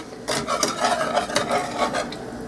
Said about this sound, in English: So I'm going to whisk this up some so that it comes into a sauce.